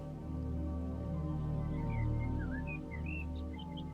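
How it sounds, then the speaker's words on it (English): Small birds chirping in soft sunshine beside temple ponds and waterfalls, a handful of quick, light tweets scattered over a low sustained drone bed. "You also hear the birds chirp"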